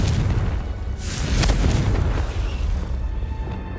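Confringo blasting spell explosion in the Hogwarts Legacy game, a loud, deep booming blast with a rumbling tail that lasts several seconds, no talk.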